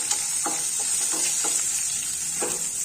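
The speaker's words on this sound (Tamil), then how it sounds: "இப்ப இதோட நம்ம இந்த பிரண்டைய வதக்கிக்கலாம்" Pirandai and ridge gourd peel being sautéed with tamarind in a pan, a steady close sizzle under several soft stirring scrapes at intervals, no talking.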